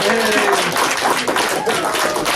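A convention crowd at a furry-con debate panel claps and cheers for the champion, a burst of applause and whoops mixed with voices shouting over it.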